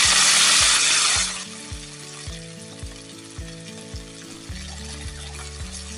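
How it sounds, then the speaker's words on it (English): Onions, frozen peas and carrots hit a hot pan with a loud burst of sizzling for just over a second, then the frying drops low beneath a steady rhythmic backing beat. "Once the onions have been cooking for 2 to 3 minutes, add your frozen peas and carrots."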